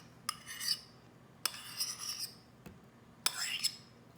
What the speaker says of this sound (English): Because they're yolks, I have to really scrape this little bowl so I truly get